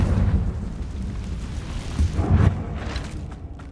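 Confringo fire spell explosions in Hogwarts Legacy, a couple of dull booming bursts over a rumbling background, fairly loud with no talk.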